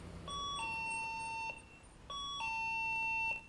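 A driveway motion sensor's indoor alarm chime sounds twice, each a two-tone ding-dong pattern with a short pause between, clear and moderately quiet.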